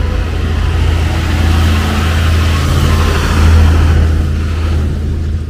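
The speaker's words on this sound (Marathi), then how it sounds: "गाड्या येत आहेत अजून पण, भरपूर गाड्या" Vehicles climb a long mountain ghat road, their engines droning steadily with a low rumble that swells slightly as one passes close by, under broad traffic noise and no talk.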